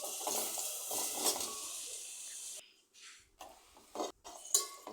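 Onions, green chillies, ginger and shallots frying in oil in a kadai, a steady close sizzle with clinks of a utensil against the pan, then breaking into short bursts and quieter gaps.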